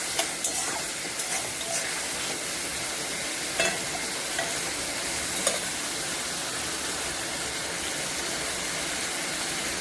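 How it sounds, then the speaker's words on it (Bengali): Onions fry in a pan with a loud, steady crackling sizzle, broken by a few light knocks and stirring sounds. "পেঁয়াজটা একটু ভাজা হোক।"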